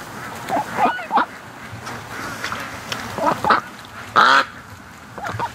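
Domestic ducks at a lakeside near a creek let out a series of loud, nasal quacks in uneven bursts, some single and some doubled, with one louder call near the end over faint outdoor background noise.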